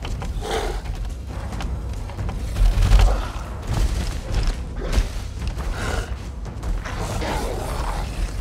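Repeated gunfire at an enemy in the survival horror game Resident Evil Village, with scattered heavy thuds and shot bursts over a dense, rumbling in-game soundscape, the loudest blast near the middle.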